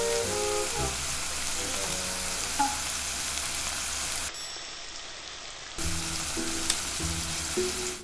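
Brisket slices frying in a pan with the oil-based soup base of Jjamppong instant ramen, a steady crackling sizzle throughout with a brief quieter dip partway, no talking.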